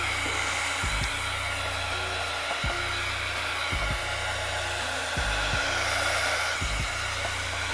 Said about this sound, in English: get the heat gun.